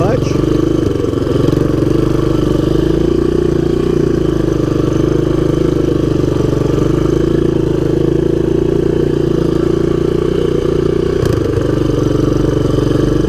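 A 1983 Honda ATC200X three-wheeler with a damaged front exhaust runs steadily and loudly up close, a constant mid-pitched engine drone with slight clatter throughout.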